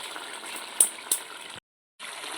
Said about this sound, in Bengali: এবার এটাকে একটু ফুটিয়ে নেবো